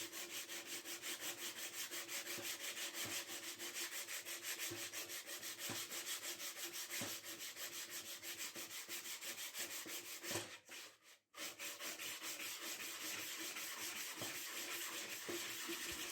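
Hand sanding a wooden rainmaker with 240 grit sandpaper makes a steady, close, rhythmic rasping of paper on wood that runs almost without a break, with one brief pause near the end.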